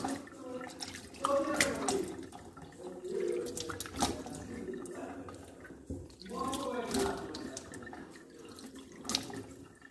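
Tap water runs and splashes while a face is washed with rice-rinsing water, a steady close watery hiss with bursts of splashing, mixed with some background voice.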